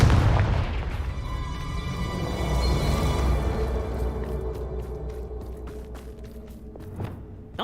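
A heavy magical blast from the Confringo spell in Hogwarts Legacy: a loud low boom at the start that rolls and fades over several seconds, with a few faint clicks near the end and no talk.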